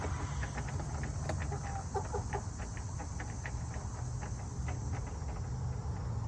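Backyard hens cluck at one another in soft, close, intermittent calls over a constant high insect drone.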